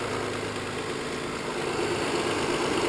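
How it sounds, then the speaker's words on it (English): An Audi A6 Quattro engine idles steadily and evenly, a constant low rumble with a faint hum, close by and without any talk. "this is still a very good running engine"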